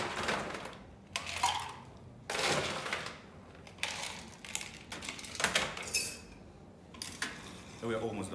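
A cocktail with Fino sherry is stirred in a mixing glass, giving bursts of rhythmic clinking of spoon and ice separated by short pauses, while someone talks quietly between them.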